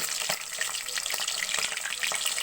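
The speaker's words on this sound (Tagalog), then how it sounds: "Initin ko ang ham." Ham heating in a frying pan, sizzling and splattering in a steady close hiss with small crackles, no voices.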